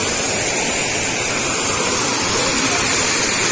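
Floodwater after heavy rainfall rushes through dam gates at the Sri Rangarajupalli bridge in Hindupur: a loud, constant roar filling the whole clip, thick and unbroken like a torrent pouring through gates.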